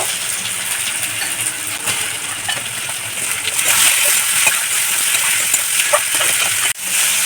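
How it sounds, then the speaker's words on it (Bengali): Potatoes tip into a hot pan of frying tomato for a lentil-dumpling and Malabar spinach curry, giving a loud, continuous sizzle and splatter with occasional clinks of a utensil against the pan. "এর মধ্যে আমি এখানে আলু নিয়েছি, তো আলুগুলো দিয়ে দেব।"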